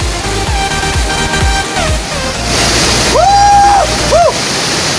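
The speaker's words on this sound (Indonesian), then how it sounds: "sekarang kita sudah berada di air terjun Lubuk Kudo, yaitu air terjunnya ada dua tingkat ya" Two-tiered waterfall at Lubuk Kudo in Balimbing, Padang, each tier about three meters high, pouring into a deep green pool; a steady broadband rush of falling water runs throughout, with brief tonal whistles over it and faint voices nearby.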